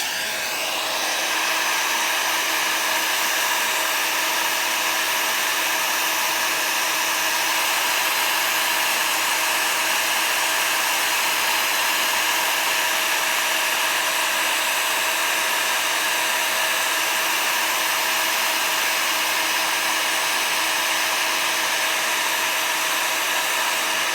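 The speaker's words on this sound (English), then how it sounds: "So you're going to hear some noise here for just a second. I apologize, but I have to emboss this." A heat embossing tool runs continuously for about twenty seconds, a steady close-up fan whine and airy rush like a small hair dryer, holding constant with no voices over it.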